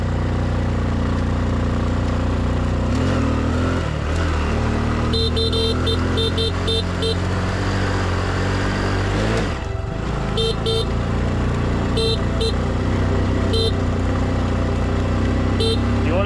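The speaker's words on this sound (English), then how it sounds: "You want to be on the horn here," Motorbike horn honking in short repeated bursts on a rural road of the Ha Giang loop in northern Vietnam, loud over a steady close engine drone, with a few toots clustered in quick succession.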